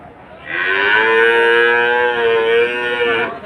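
Cattle at a market in Rajshahi give a single long, loud moo while being loaded onto a truck, the call rising after a brief pause and holding for nearly three seconds at close range.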